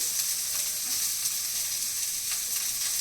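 Dal tempering fries in hot oil while a spoon stirs through it, giving a steady, close sizzle with faint scraping and no voices.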